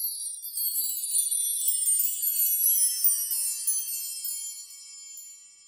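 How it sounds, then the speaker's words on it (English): Light jazz wind chimes made of thin, graduated solid bars in a six-note scale, struck into a bright, shimmering run of high tinkling tones that rings on for several seconds and fades, with no talking. "This set is what they call their jazz chimes."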